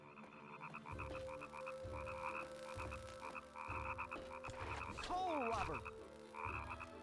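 Frogs croak in steady, evenly spaced rhythmic pulses throughout a game scene from Oogie's Revenge, with a high, sweeping sound effect briefly cutting across the chorus.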